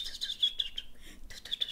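A flute played with rapid tonguing in imitation of a bird call: quick, bright chirping bursts repeat close and clear for about a second, pause briefly, then return.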